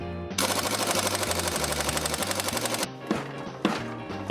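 An impact wrench hammers at a stuck compensator sprocket nut on a Harley FXR, a loud, close, rapid rattling burst lasting a few seconds, followed by two short shorter bursts, with no talk.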